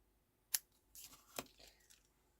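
Scissors snip through card stock for a handmade card, a sharp close cut followed by a few softer rustling snips over a quiet background.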